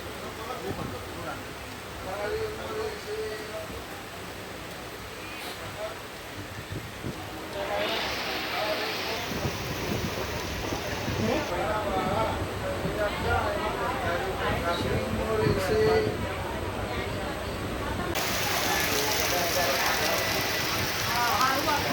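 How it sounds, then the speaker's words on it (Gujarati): Steady rain falls outside a moving local MEMU train between Khambhat and Anand, a continuous hiss and patter under a background rumble, with people talking throughout. "સરસ વરસાદ ચાલુ છે."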